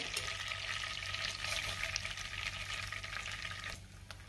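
Cumin seeds dropped into hot butter in a pan for pav bhaji, a steady close sizzle and frying crackle that runs continuously throughout.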